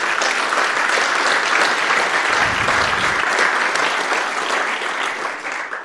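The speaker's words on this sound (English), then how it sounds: "A nice little clap." Sustained applause from a conference audience at a tech event at CERN, dense and steady for nearly six seconds before tapering slightly at the end, with no talking over it.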